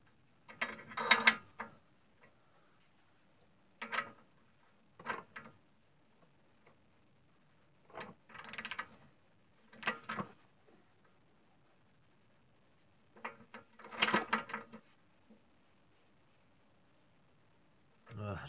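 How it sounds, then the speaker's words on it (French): A wrench tightening bolts on a Saab 9-3 water pump: short clicking ratchet bursts, each lasting about a second, separated by quiet gaps, close and fairly faint. "Un coup de clé."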